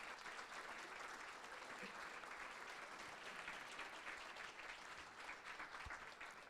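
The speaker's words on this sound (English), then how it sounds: "Please give her an applause." A chamber of commerce breakfast audience claps for a scholarship recipient, a steady, even round of applause sustained throughout, heard from a moderate distance.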